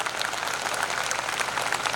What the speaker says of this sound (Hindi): देखो, ताली